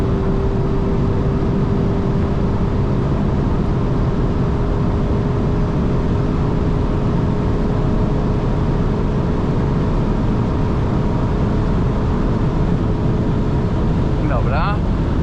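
A 2015 Seat Leon Cupra 2.0 TSI at full throttle near top speed, a steady droning engine and road roar with a constant high tone and heavy wind noise throughout, loud and unbroken for the whole stretch.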